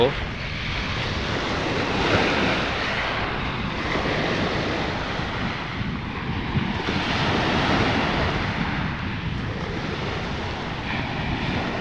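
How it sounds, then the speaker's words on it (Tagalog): Steady, loud surf roars and swells continuously on Manila Bay, with heavy wind buffeting the microphone and no clear breaks between the rolling waves. "Lakas ng alon, pakinggan natin yung ano ng alon, yung sounds niya ba."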